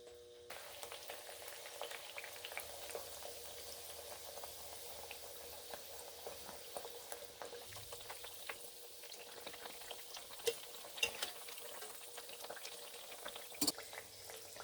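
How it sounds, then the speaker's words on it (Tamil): Steady crackling and sizzling of thattai, flat rice crackers, frying in hot oil, continuous bubbling with occasional sharper pops, close and moderately loud, no talking. "இதில் நம்ம தட்டி வச்சுருக்கிற ஒரு தட்டையும் போட்டு எடுத்துக்கலாம்."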